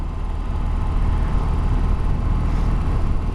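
A BMW R 18 motorcycle accelerates with a steady, loud engine drone mixed with rushing wind noise, heard continuously from the rider's position.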